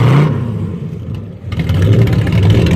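A classic car's engine revs loudly and close by as show cars roll onto the field at a car club spring kickoff show, a rough throaty roar that dips briefly then swells again.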